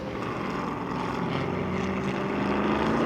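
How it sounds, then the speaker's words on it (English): Sports racing cars roaring down the main straight at Sonoma Raceway during a vintage race, with a dense, loud, sustained engine drone and no break. "Jim Gallucci drifting out of the last corner and down the main straight again, being chased by this group"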